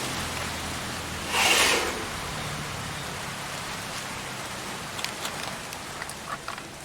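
Rain falling outdoors in the countryside, a soft steady patter with a brief louder gust early on and scattered drops later, moderately faint.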